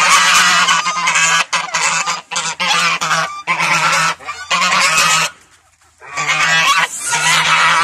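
Farm geese honk loudly and close by in a rapid run of harsh calls, with brief pauses between bursts and one longer quiet gap near the end.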